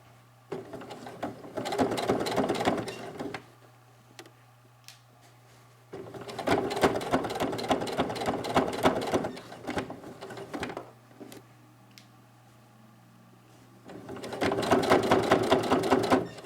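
A close sewing machine stitches binding onto a pleated face mask in three separate runs of about three seconds each, with quiet pauses between them and a faint steady hum underneath.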